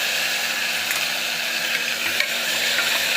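Split green chillies and chopped tomatoes stirred into hot oil in a pan, sizzling and frying steadily throughout with no gaps and no voices.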